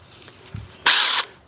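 A SEYVUM mini chainsaw, unoiled, bites into wood in one loud, close buzzing burst lasting about a third of a second after a faint knock.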